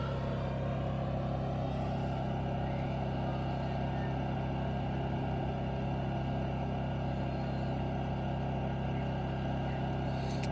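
Honda portable generator runs with no load outdoors in a light breeze, a steady, even engine drone at close range with no changes in pitch.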